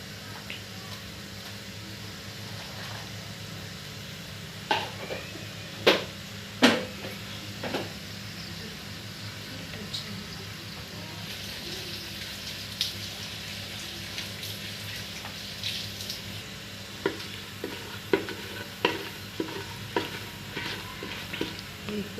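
Whole biryani spices and two bay leaves frying in hot oil, a low steady sizzle dotted with sharp pops and crackles that grow more frequent toward the end.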